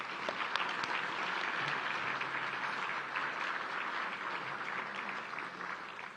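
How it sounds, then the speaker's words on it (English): Steady, moderately distant applause fills the room at a city's State of the City address, honoring Winter Park city staff, continuous and even with no voices over it. "let's give them another round of applause."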